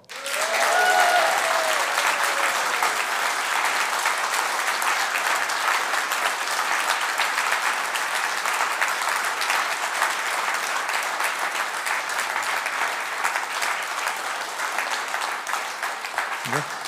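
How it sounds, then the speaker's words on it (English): Sustained congregation applause at a festival Songs of Praise service, a dense, even wash of clapping that holds steady for well over fifteen seconds without talk. "And so we just want to say thank you and give you a round of applause."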